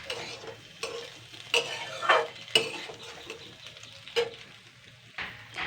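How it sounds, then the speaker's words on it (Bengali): Leftover cooked rice frying in a pan is stirred, with sharp scrapes and clinks of the spatula against the metal over a steady sizzle. The sound is close and fairly loud, with uneven strokes. "এবার আমি ভালো করে সুন্দর করে নেড়ে চেড়ে নেবো"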